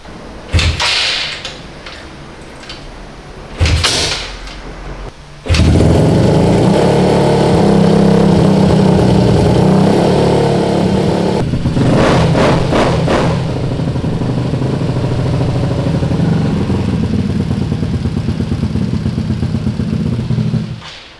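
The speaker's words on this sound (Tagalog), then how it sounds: "Finally, lumaandar na ulit yung motor natin na Finix. So, yung Fino na nasunog, buhay na naman siya." A Yamaha Fino scooter rebuilt after a fire is kicked over with a few short starting bursts, then catches and runs for about fifteen seconds in a loud, close, steady idle with a brief rev partway through.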